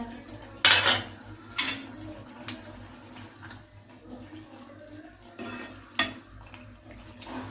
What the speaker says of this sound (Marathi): ह्या चमच्याने 2 चमचे बेसन व अर्धा कप पाणी असं कालवून घ्या आणि ते ह्या भाजीमध्ये मिक्स करा